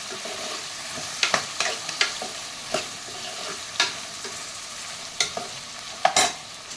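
Dried red chillies and curry leaves being sautéed in a pan for vangi bath, with a soft steady sizzle broken by intermittent scraping stirs of the spatula, close and fairly quiet.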